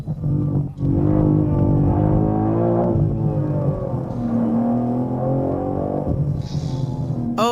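BMW M3 CS Touring engine pulling hard under acceleration, a loud, droning exhaust note rising in pitch, a short break as it shifts, then climbing again from inside the car.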